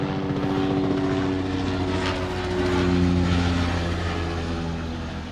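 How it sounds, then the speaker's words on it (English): Traffic helicopter flying overhead, its steady rotor and engine drone loud and continuous, swelling slightly midway and then easing off as it passes, with no talk. "Traffic helicopter."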